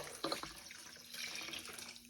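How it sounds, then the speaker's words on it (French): Water poured into a Thermomix bowl while making a leek soup, a brief steady splashing pour close by that lasts about two seconds. "Donc là, je vais rajouter 600 g d'eau."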